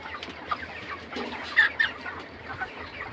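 Broiler chickens about 27 days old clucking on a farm during weighing, a steady chorus of soft clucks with a few sharper calls and brief wing flaps.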